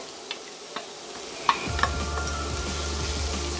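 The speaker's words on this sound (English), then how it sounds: "Let the onions fry off." Chopped onions frying in oil in a pan for lasagne, a steady soft sizzle rising after a few light clicks and taps of a utensil, close and continuous with no talking.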